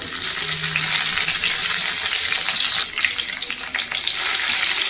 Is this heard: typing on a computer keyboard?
no